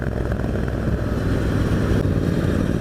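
A Triumph Bobber motorcycle's exhaust roars under open throttle, a loud, steady, rumbling engine note that holds continuously up close.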